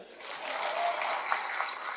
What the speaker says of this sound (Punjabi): ਤਾੜੀਆਂ ਮਾਰ ਦੋ ਯਾਰ